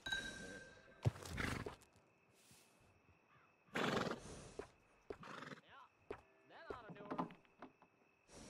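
A horse in the video game Red Dead Redemption 2 whinnies loudly twice amid clip-clopping hooves, with background tones and a voice talking briefly in between.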